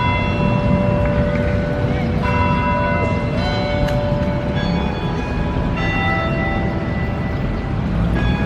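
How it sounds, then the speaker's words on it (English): Church bells ring out over a busy town square near the Palacio del Gobernador, sustained metallic tones layered over constant street noise, with a voice briefly talking. "Oh, there's the church bells."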